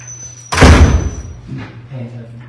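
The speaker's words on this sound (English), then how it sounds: "Mr. Nelson, if you would step out and if we could close doors, please." A door thuds shut in a school board meeting room, one loud close at mid-clip followed by faint room noise and soft movement.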